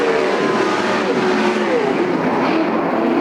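Western sprint cars race at Sunset Speedway, a loud sustained engine roar with a droning pitch that slides slightly as the cars battle for position, heard close and continuous throughout.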